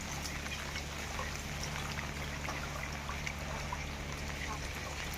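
Water poured into a pot while chicken curry cooks on a rainy day, a steady broadband trickle and splash running evenly through the whole stretch with a low background hum.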